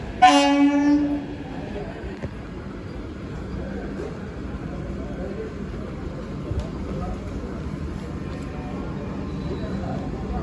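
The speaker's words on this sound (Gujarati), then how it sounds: "અને ફાઇનલી આપણી ટ્રેન છે તે આવી ગઈ છે" A Vande Bharat train's horn blares loudly at the start as it arrives at the platform, then the rumbling clatter of rail cars rolling along continues steadily.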